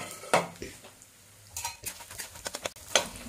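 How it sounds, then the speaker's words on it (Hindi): Makhana (fox nuts) roasting in ghee in a kadhai: light crackling sizzle with intermittent clinks and scrapes of a spatula against the metal pan, irregular stirring strokes close up. "उसी कढ़ाई में घी में थोड़ा और घी डालकर अच्छे से जब गल जाए तो उसमें मखाना डालकर इसको भी अच्छे से भून लीजिए।"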